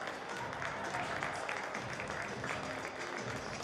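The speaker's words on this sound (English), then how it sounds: "clapping for their opponents and everything they're receiving" A crowd at a high school girls' basketball provincial championship between the Spruce Grove Panthers and Strathcona Lords claps steadily and evenly for the opposing team, sustained applause filling a gym at moderate distance.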